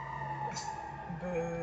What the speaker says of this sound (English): Hey, a siren. There's a fire truck going by.